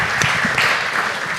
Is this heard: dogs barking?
no